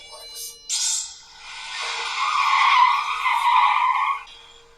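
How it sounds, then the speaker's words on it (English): Tires screech as a car skids in an animated Detective Conan car accident scene, a loud sustained squeal that swells and holds before cutting off, with no talking over it. "And this is where the car accident happens."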